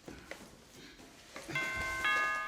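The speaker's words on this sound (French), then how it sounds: "Mais chaque coup de sonnette l'angoisse." A doorbell chimes twice in quick succession, clear tones ringing out over faint room noise and a few soft knocks.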